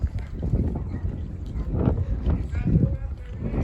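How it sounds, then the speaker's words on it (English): Wind gusts buffet the microphone on an outdoor walk, coming in rough, low rumbling surges under a person talking. "here comes the wind now."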